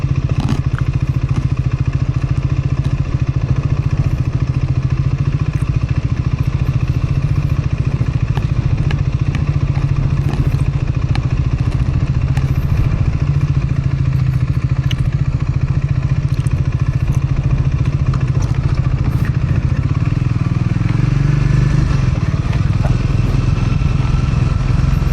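A motorcycle rides through a steep Utah canyon, its engine a constant close rumble under heavy wind buffeting, with no pauses.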